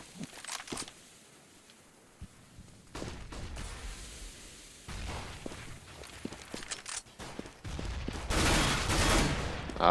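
Counter-Strike gunfire on de_nuke during a NIP vs naptoR.Factory match, with P90 and CZ 75 shots and footsteps: scattered sharp bursts and taps that build into heavier sustained fire near the end.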